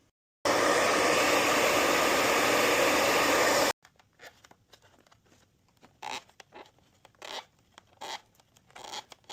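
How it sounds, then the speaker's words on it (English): A hair dryer roars steadily and loudly for about three seconds, heating the adhesive tape on a Nissan Z spoiler, then cuts off abruptly and is followed by quiet scraping and peeling sounds. "taking a hair dryer to this will make it easier to come up"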